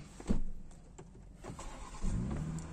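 A BMW X5 xDrive40i (G05) starting with the door open: a short starter crank and ignition catch, then a low idle settling in, with a brief electric motor whir near the end, heard close and alone.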